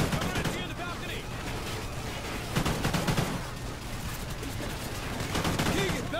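Machine gun fire in Call of Duty: Ghosts, dense rapid bursts of automatic gunfire crackling continuously at close range, with shouted voices mixed in under the shooting.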